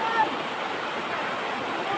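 The Wawa River flowing, a steady broad rush of water that stays even and close for the whole stretch, with no clear talk over it.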